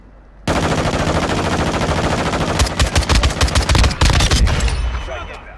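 Rapid automatic gunfire in a multiplayer shooter video game bursts loud and close, then breaks into a ragged series of sharp individual shots that taper off at the end.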